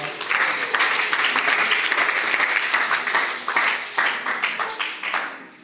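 A church congregation applauding together, a dense steady patter of many hands filling the room, holding strong for about four seconds before thinning out and fading away.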